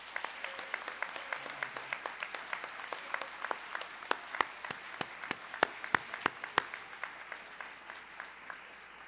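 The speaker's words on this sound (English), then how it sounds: "please give the middle school cadets another round of applause" An audience at a school cadet event gives a round of applause, with scattered sharp claps forming a steady patter that thins toward the end.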